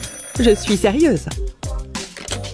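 Telephone ringing in a home, a repeating electronic ring that sounds loud and close, with someone speaking over it.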